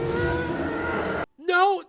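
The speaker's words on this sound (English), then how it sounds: "did they just use a TIE Fighter sound effect?" In a car chase from the movie Fast X, a loud engine roar cuts off, then a rising, harmonic TIE Fighter screech swoops past, mixed in with the film soundtrack.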